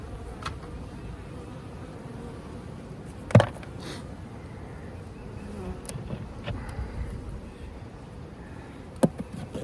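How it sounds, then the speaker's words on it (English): Honey bees buzzing around an open Layens hive during an inspection, a continuous low hum of many bees close by, with occasional sharp knocks and clicks of equipment. "Get all the bees out of the pond here"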